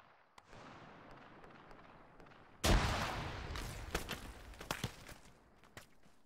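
A fragmentation grenade goes off in the military shooter ARMA 3, a sudden loud blast after quiet ambience, followed by rumbling debris and several sharp distant shots.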